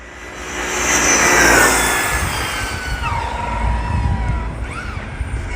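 A Redcat Rampage XBE 8S fifth-scale RC buggy runs at full throttle on a speed run, its high motor whine rising and falling as it passes, with a pitch sweep near the end over steady wind and ground rumble.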